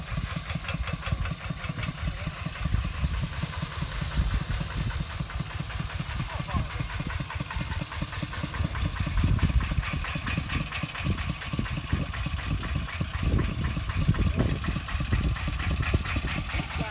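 A small water pump engine idles with a rapid, steady chugging throb and hiss, running continuously and loudly nearby with no clear voices.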